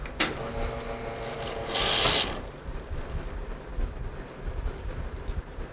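An espresso machine is switched on and run: a sharp click, then a mechanical hum, then a brief loud hiss of steam or water, after which a softer, uneven machine noise continues.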